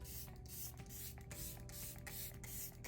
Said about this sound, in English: for setting spray, I've not tried this yet, but it's the ColourPop Pretty Fresh Peptides and Niacinamide Lock It In Setting Spray